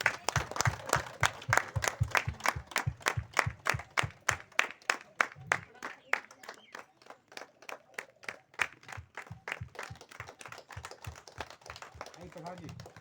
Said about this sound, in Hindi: थोड़ा उधर तालियां बजाइए दीदी